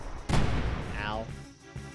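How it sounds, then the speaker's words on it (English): A Seed Cannon attack fires in Final Fantasy X, a sharp loud blast followed by a descending whistling sweep, heard alone with game effects. "Seed cannon."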